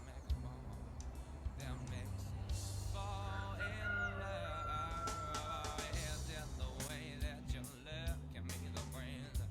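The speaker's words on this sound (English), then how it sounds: "Cedric the cockerel was being his usual noisy self" A cockerel crows several times in spring gardens, with bright rising calls standing out over people talking nearby and other faint background sounds.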